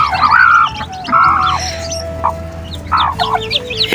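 Hens cluck and call loudly nearby in several bursts, with a thin steady tone running underneath between the calls, beside tiger-breed chicks that have just hatched.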